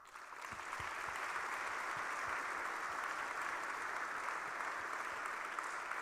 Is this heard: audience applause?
yes